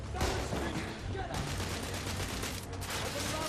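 Rifle shots from The Order: 1886, a single rifle needing two or three hits to drop an enemy: dense, continuous combat gunfire with a few distinct sharp cracks standing out, loud and close amid a busy battle mix.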